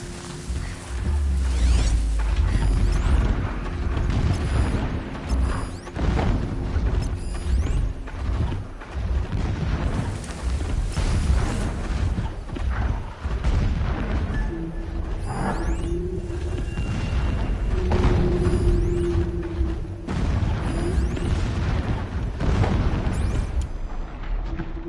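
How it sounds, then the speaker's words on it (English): Deep booms and rumbling blasts rise and fall in the Horizon Zero Dawn game world, mixed with whooshes and mechanical clanks, sustained and fairly loud throughout. "explosions in the distance"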